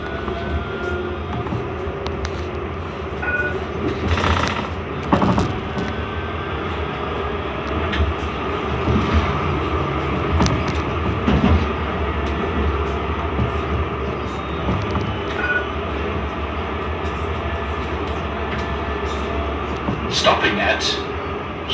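A C Class tram runs through Melbourne streets between Kew Junction and Box Hill, heard from inside as a steady rolling rumble and hum with occasional clunks and rattles from the wheels and car body. There is no talk.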